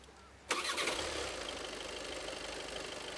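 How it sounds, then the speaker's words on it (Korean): A Volkswagen Passat GT diesel engine cranks and fires with a sudden start, then settles into a steady, slightly clattering idle, heard from inside the car at moderate volume. "디젤 엔진은 걸어볼까요?"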